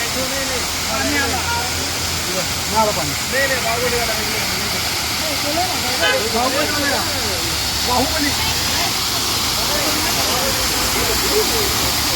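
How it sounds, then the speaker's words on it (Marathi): Munnar waterfall in Kerala pours with a steady, broad rushing roar that fills the whole stretch, while people talk over it now and then. "मुन्नारचा वॉटरफॉल दर्शन होत आहे आमच्याकडे सुंदर असं."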